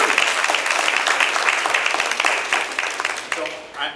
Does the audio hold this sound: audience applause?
yes